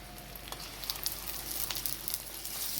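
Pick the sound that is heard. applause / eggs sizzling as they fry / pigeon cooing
eggs sizzling as they fry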